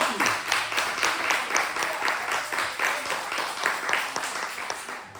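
A church congregation applauds, many hands clapping in a strong rhythmic beat, evenly pulsing and fairly close, continuing steadily throughout.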